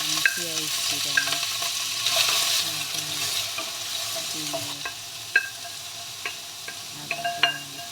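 Onions sizzling in oil for spring rolls, a steady close frying hiss broken by repeated clinks and scrapes of a utensil stirring against the pan.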